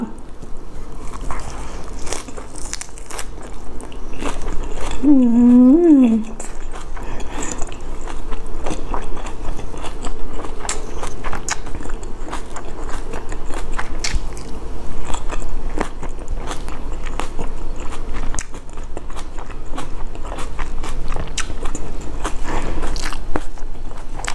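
Someone eats rice noodle wraps dipped in jaew sauce, with steady crunching and biting sounds and a brief squeaky tone partway through, all over constant background noise.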